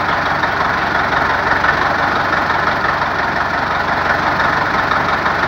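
A UTB U650 tractor engine idles loudly and steadily nearby, a constant low rumble with an even mechanical throb throughout.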